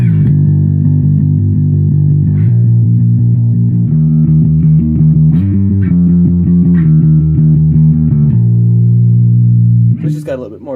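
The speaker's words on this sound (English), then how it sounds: "I also have a setting over here with a little bit more drive to it" A finger-plucked bass guitar runs through a worship pedalboard on a setting with extra drive, playing a steady line of warm, slightly gritty notes that continue without pause for about ten seconds.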